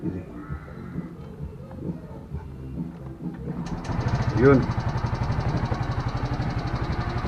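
A Mio Gravis scooter-type motorcycle starts partway through and settles into a steady, close idle with an even rapid pulsing; before it fires, someone talks over faint background noise.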